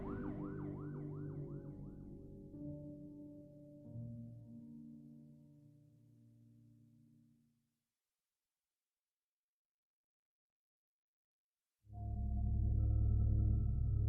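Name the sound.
police car siren blaring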